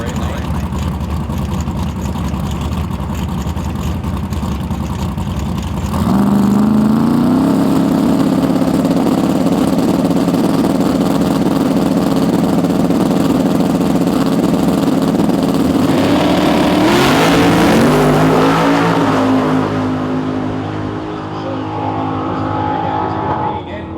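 A Chevrolet-powered Mustang at a heads-up drag race in Canada idles loud and close, steps up to a steady high rumble, then roars into a rising launch before fading off down the strip.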